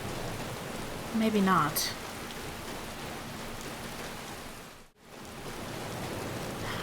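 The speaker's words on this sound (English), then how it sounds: "I don't like this rain very much." Steady rain falls in the video game Skyrim, a constant hiss of rainfall behind a short spoken phrase, with a brief dip before the downpour resumes.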